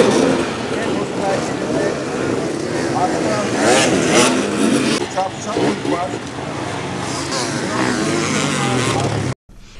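Hundreds of enduro motorcycles roar and rev at the start of a season-final race on a rough, dangerous course, a loud massed engine drone with rising revs, heard under a narrator's voice.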